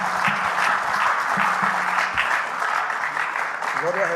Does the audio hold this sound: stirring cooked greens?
no